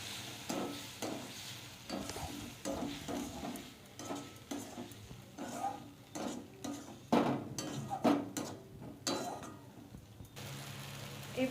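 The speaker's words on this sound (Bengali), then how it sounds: "মশলাটা আমার ভাজা ভাজা হয়ে গেছে, এবারে আমি একটু সামান্য জল দিয়ে দিচ্ছি।" Spiced masala for a paneer dish stirred in a pan after a splash of water, giving a soft sizzle broken by repeated scrapes and clinks of a spoon against metal, with brief pauses between strokes.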